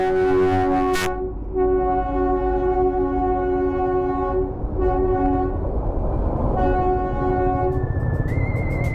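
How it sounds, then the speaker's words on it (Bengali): Darjeeling toy train approaching in congested Kurseong bazaar near the station, sounding loud, sustained horn blasts in several bursts over a constant rumble of engine and street traffic. "সামনে আসছে টয় ট্রেন।"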